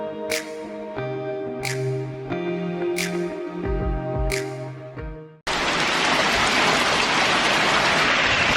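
Hail falling outside, a dense steady hiss of pelting ice that starts abruptly after a stretch of music and carries on loud and continuous.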